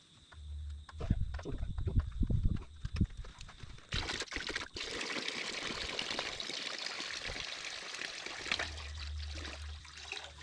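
Coolant is poured into the radiator of an International 434 tractor, giving a steady close trickling and gushing of liquid that builds into a continuous pour, with a low engine-like hum at the start and end.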